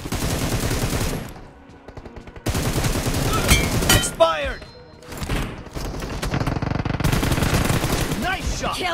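Automatic gunfire in an 8v8 multiplayer shooter match: loud, close bursts of rapid fire broken by short gaps, with whizzing effects and thuds mixed in and a voice talking briefly over the shooting.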